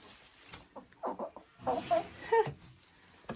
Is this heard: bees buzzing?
no